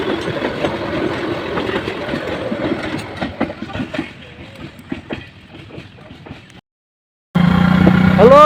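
A very long train passing a level crossing near the Jamuna Bridge: loud rolling rumble with clickety-clack of wheels that fades off, then a short silence before a sudden loud tone cuts in.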